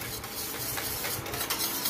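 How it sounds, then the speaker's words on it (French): A lemon tart filling mixture is stirred in a saucepan, with a continuous soft scraping and swishing, close and steady, with no voices. "Vous mélangez ça tranquillement, gentiment, tout doucement"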